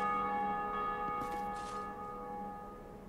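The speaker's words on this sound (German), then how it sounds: "die Glocke" A large bell tolls once in the video game Dark Souls 2, a resonant metallic strike whose rich ringing tone slowly decays over a few seconds, heard alone without talk.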